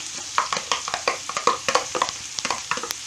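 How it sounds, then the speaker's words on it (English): Finely diced onion hitting fairly hot olive oil in a pan, a close, lively sizzle broken by quick, irregular stirring scrapes and clicks, with no talking. "Put it into some fairly hot oil."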